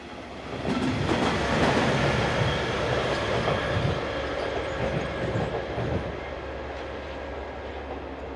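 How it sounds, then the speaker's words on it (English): A northbound passenger train on the Luxembourg to Troisvierges line, pushed at the rear by a Bombardier Traxx electric locomotive, rumbles past close by with a loud, sustained roar and rolling wheel noise that gradually eases. "Heading north is the 946 from Luxembourg to Troisvierges, powered at the rear by Bombardier Trax electric locomotive number 4004."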